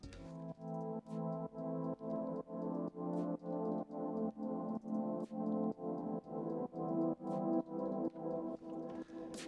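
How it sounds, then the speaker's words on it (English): A haunting synth pad swells in steady repeated pulses, each chord fading in and out in an even rhythm, with faint clicks between swells and no voices. "We also have a haunting pad"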